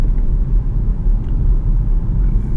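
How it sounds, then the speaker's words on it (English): Road noise inside a Jaguar XF 5.0 V8 S saloon while driving, a steady low rumble of tyres and cabin drone, continuous and fairly loud with no talking. "Not as much road noise"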